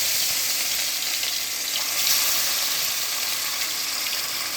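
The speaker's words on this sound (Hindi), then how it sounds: "तेल गर्म हो गया, अब इसको फ्राई करने के लिए डालेंगे।" Fish frying in hot oil for a fish korma, a steady loud hiss and crackle close by, continuous for several seconds with no talk.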